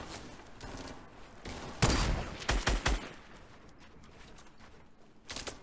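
Gunfire in Fortnite Battle Royale: a dense, loud burst of rapid shots, then a few separate heavy cracks in quick succession, another shot near the end, all over a rumbling game background.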